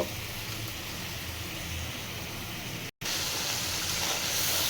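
Blended ground spices (turmeric, chili powder, salt, cinnamon, cardamom and clove) sizzle in hot oil with a steady, dense hiss, broken once by a brief dropout before the frying continues.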